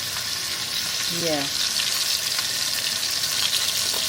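Garlic, onion, celery and carrots sauté in a hot pan with a steady, dense sizzle throughout. A voice briefly speaks over the frying.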